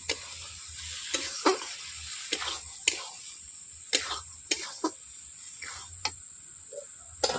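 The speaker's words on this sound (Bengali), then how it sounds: "এরপর আমি জল ঢেলে দিচ্ছি।" Water hits a hot pan of sautéed peas and potatoes, giving a steady sizzle and hiss broken by scattered spoon clinks and stirring taps, close by.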